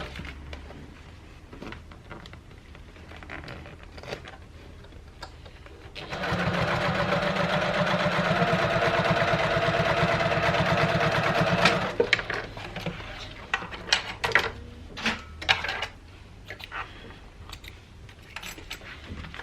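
A sewing machine top stitches the side seams of an Ethel tote bag, a steady close mechanical whir running for about six seconds, framed by quieter handling clicks and fabric rustling before and after.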